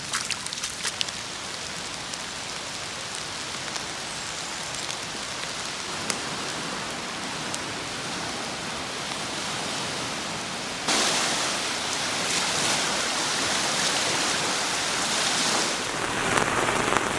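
Steady rain pours down in a continuous hiss, growing heavier partway through, with no voices.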